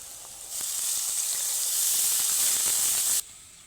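Water poured onto spices frying in oil in a wok for garlic curry, a sudden loud hissing burst of steam that holds for about three seconds and then cuts off sharply.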